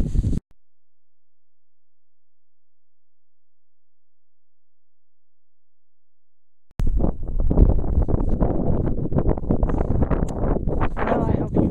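Gusty wind buffets the microphone with heavy low rumbling after a stretch of silence, continuing roughly and loudly until the end.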